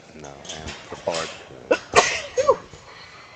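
At a powerlifting championship a person sneezes, a sharp, close burst that comes after some speech and is followed by a few further short vocal sounds.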